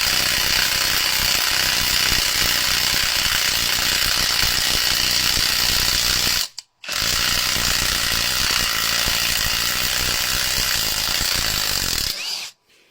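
A cordless impact wrench running on a 6 Ah battery hammers loudly at close range. It makes a continuous rapid rattling impact in two long bursts separated by a brief stop, then cuts off at the end.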